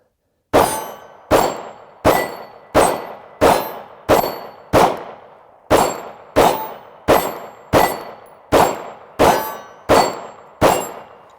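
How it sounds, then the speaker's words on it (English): Sig Sauer P320 pistol shots striking a steel target, about fourteen evenly spaced sharp cracks each followed by a ringing metallic clang, loud and close with no talking. "I can ring the steel just as easily with this as I could the Beretta M9"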